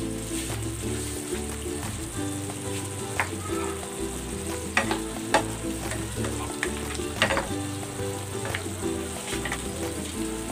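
Okra and milkfish cook in a covered pan, with a continuous loud sizzle and bubbling broken by scattered pops and small clacks.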